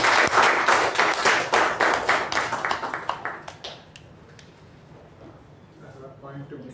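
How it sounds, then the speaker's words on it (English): An audience at a club meeting applauds for award recipients, dense clapping loud at first and then thinning out and fading, with faint voices taking over near the end. "Let us give them a huge round of applause."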